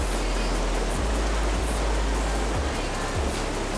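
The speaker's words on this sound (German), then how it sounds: "ich komme jetzt aber auch nicht weiter in den Fluss rein, in die Flussmitte, weil ihr seht ja selber, das ist noch Hochwasser." A rushing alpine river running high in flood, churning through rapids as a steady, loud, close broadband roar with no break, and low thumps from water surging around the bank.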